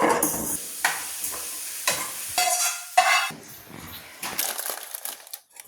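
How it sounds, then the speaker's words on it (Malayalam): Mustard seeds dry roasting in a pan for mango pickle, with a close stirring scrape and light crackling and sizzling in uneven bursts, then quieter stirring. "അടുത്തതായി കടുക് വറക്കുക"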